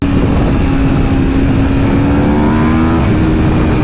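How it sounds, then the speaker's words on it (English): Aprilia RSV4 motorcycle engine, a 2022 model in sport mode, revving hard toward redline on an open road, a loud continuous rising whine that climbs in pitch throughout. "there's this nice stretch of road that I think I can redline this bike and see what she finally feels like."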